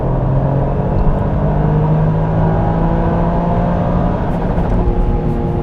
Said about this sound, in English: now we're doing third gear pulls from 40 miles per hour all the way to the red line